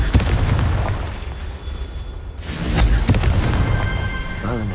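Hogwarts Legacy's Confringo blasting spell goes off with several sharp booming bursts amid loud game combat noise; a voice is faintly present.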